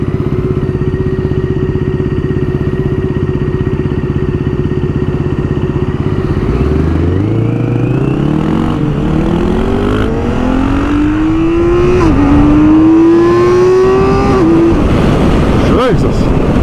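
A BMW K1600 GT six-cylinder motorcycle with an upgraded ECU, steady loud engine drone that climbs through rising revs and gear pulls, close and continuous, with voices faintly beneath.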